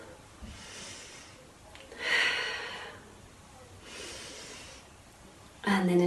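Deep seated breathing during a desk posture exercise: a few slow, close inhales and exhales come as soft, airy swells separated by quiet pauses, with a sharper breath at the end.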